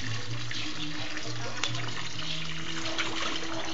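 Water runs steadily from a tap, filling a backyard swimming pool, a continuous close splashing gush with a low hum underneath, running alone without talk.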